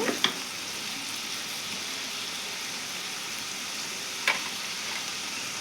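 Turmeric and curry leaves frying in hot oil for a dried fish tomato curry, a steady close sizzle with a couple of sharp crackles at the start and one near the end, no talking.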